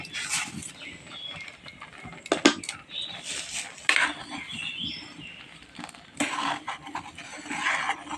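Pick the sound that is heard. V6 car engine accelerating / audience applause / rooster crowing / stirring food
stirring food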